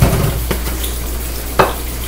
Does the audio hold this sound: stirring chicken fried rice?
yes